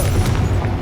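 A short, loud, booming burst from the Confringo fire spell exploding in Hogwarts Legacy, a single dull blast with a rumbling low end.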